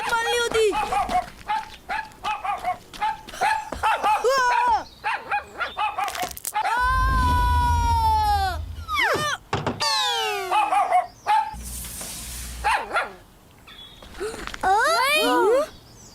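In an animated Islamic kids' show, a cartoon dog barks and yips while chasing someone, the loud, rapid barks mixed with running sounds, sweeping effects and bursts of expressive voice.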